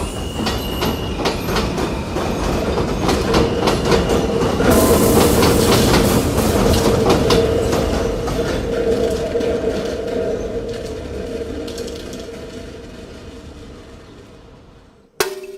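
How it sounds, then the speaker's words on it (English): A loud elevated subway train in New York rumbles and clatters past nearby with rhythmic clacking and a brief squeal, then slowly fades away. "there's a train that comes every 5 to 10 minutes, 24 hours a day, and it is really loud"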